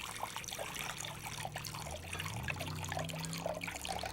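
Water pours in a soft, steady trickle into a pickling brine of salt and vinegar, faint and close, with a low hum beneath it.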